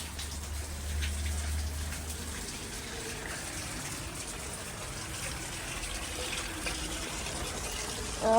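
Water runs in a steady, continuous gush from a hose or tap while garden plants are being watered, close and even in level from start to finish, with no talking.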